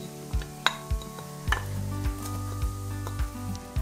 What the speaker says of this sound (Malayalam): ഇത് ഞാൻ നേരത്തെ മാറ്റി വെച്ചിരുന്ന പൊടിച്ച ചില്ലീസും ഫെനൽ സീഡ്സിൻ്റേതുമാണ് ഇനി ഇത് വറുത്ത് പോരാം